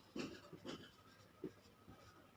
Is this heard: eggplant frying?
no